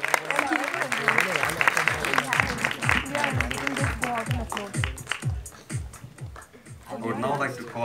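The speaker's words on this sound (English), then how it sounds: "a huge round of applause for these wonderful ladies" An audience at a film awards ceremony applauds loudly and continuously while a person speaks over the clapping, which thins out toward the end.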